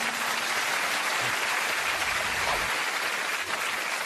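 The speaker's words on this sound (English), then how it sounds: "That sound of the applause there is what you're looking for tonight." Studio audience at a television panel show breaks into loud, dense applause that holds at full strength for several seconds, a thick unbroken roar of hands close to the microphones.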